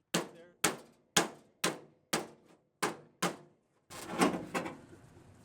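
Hammer blows shaping the metal of a front spoiler on a purple Satellite car, eight sharp separate strikes in a steady rhythm, then a burst of denser rapid tapping near the end, close and loud.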